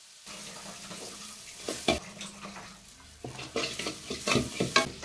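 Turmeric and coriander powders sizzling in a hot pan for a home-style Kerala curry, a soft continuous fry broken by several sharp scraping stirs of a spoon, close and fairly quiet, with no talking.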